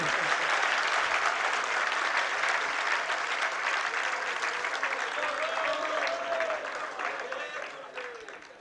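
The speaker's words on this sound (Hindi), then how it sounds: "अब यहाँ पर बैठे बैठे कवि लोग भी ताली बजा रहे हैं।" Audience at a Jain religious discourse by Acharya Vidyasagar Ji Maharaj claps steadily, a dense sustained round of applause throughout that fades slightly at the end, with a voice briefly audible beneath it.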